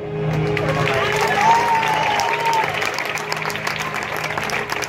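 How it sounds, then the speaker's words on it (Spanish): A crowd applauds steadily, the clapping dense and sustained, with a voice speaking over it. "Y el último aplauso va para él."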